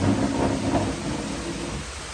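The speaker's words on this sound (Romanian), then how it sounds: "A început ploaia!" Rain begins with rolling thunder in a storm in Punta Cana. The thunder is a loud, steady rumble under a dense wash of falling rain, and no voices are heard.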